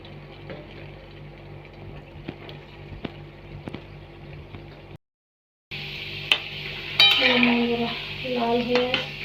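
Gulab jamun dropped into hot oil, a soft steady bubbling fry with light utensil clicks, broken by a brief gap before a louder, busier sizzle takes over.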